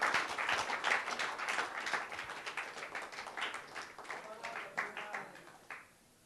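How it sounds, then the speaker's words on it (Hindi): A crowd at a film first-look and song teaser launch event for The Battle of Bhima Koregaon claps in a fairly close, uneven burst, with individual hand claps standing out before the applause thins and cuts off near the end. "जोरदार तालियां बजते रहनी चाहिए"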